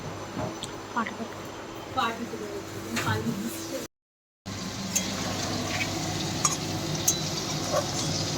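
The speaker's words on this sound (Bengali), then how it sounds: "এখানে আলুটা ভাজা প্রায় হয়ে এসছে" Potatoes fry in a pan with a steady, hissing sizzle and occasional soft scrapes, while voices murmur faintly in the background; a brief silent gap interrupts.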